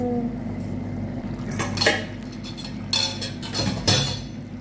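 A cooking pot lid being lifted while dry fish and brinjal cook, a few sharp metallic clinks and clanks of the lid against the pot, close and clear over a low kitchen hum.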